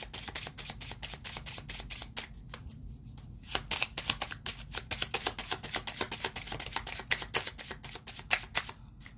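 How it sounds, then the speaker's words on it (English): Tarot cards are shuffled rapidly and continuously up close, a dense run of crisp riffling snaps with a brief pause partway through. "I hope that shuffling is not too loud on this camera."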